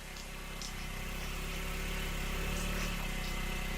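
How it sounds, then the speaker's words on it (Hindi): A vehicle engine hums steadily nearby as it arrives, a continuous low, even rumble with a broad noisy wash and no pauses. "मेरे बेटे की गाड़ी की आवाज सुनाई दे रही है"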